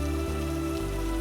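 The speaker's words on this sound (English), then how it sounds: "The rain sounds different in morning than at night." Steady morning rain falls in a soft, continuous patter, faint and even throughout, with a low hum running underneath and no voices.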